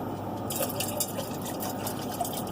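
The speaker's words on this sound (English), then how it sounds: "So we're going to refill our cold Yeti here." Water pours from a gallon jug into a Yeti tumbler as a steady, close liquid splashing and trickling that runs for a couple of seconds without talk.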